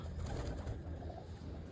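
A Sialkoti hen pigeon gives a soft, low cooing, close by and brief.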